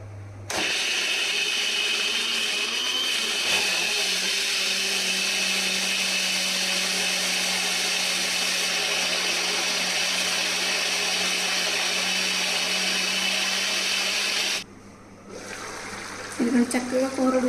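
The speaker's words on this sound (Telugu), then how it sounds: "ఇవి ఇప్పుడు మిక్సీ జార్లో వేసి మెత్తగా పేస్ట్ కింద చేసుకోవాలన్నమాట" A mixer grinder whirs loudly and steadily for about fourteen seconds, grinding chickpeas into paste, then cuts off, followed by faint clatter.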